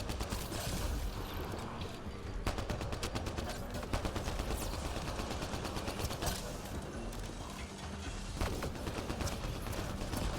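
Rapid bursts of gunfire ring out in a Mass Effect Andromeda firefight, sharp repeated shots over dense battle noise lasting throughout, with a voice speaking underneath.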